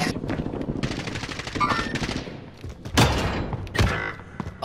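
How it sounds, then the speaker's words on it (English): Rapid automatic gunfire crackles through a battle royale match, loud close bursts alternating with thuds and short pauses, then a couple of heavy final shots. "Someone's shooting at me."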